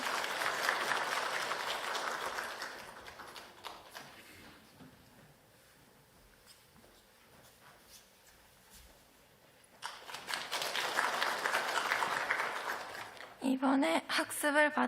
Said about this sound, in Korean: 우리 박수로 축복해 주세요.